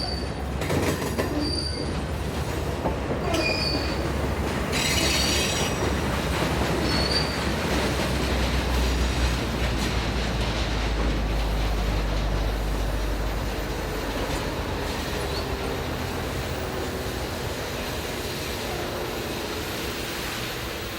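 A rake of loaded steel coil carrier wagons rolls steadily past on an internal works line, with a continuous low rumble, wheel noise and a few high squeals from the wheels, and no voices.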